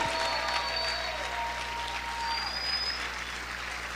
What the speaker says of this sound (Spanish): A ver, grita, aplaude fuerte al Señor.